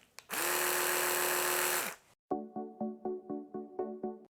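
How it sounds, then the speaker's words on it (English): An electric toothbrush hums loud and steady for about two seconds, stops, then restarts with a pulsing, stuttering buzz in regular beats, close up with no voices. "I'm going to show you how to use an electric toothbrush"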